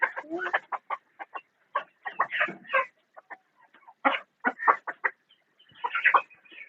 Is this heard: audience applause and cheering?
no